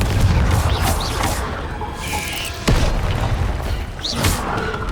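Explosive booms from the Confringo fire spell in Hogwarts Legacy on PS5 burst amid ongoing combat noise, with one sharp blast near the middle standing out above a dense rumbling, crackling background.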